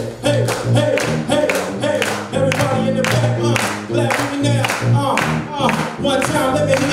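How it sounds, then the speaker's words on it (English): An audience at a live conference performance claps in a steady rhythm along with a song, each beat sharp and even, with music and singing underneath. "Clap with me like this, come on."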